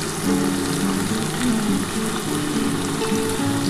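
Chili spice paste of ground green chili and Kashmiri chili powder fries in a pan for a tangra fish curry, giving a steady, close, loud sizzling hiss with a low continuous hum running underneath throughout.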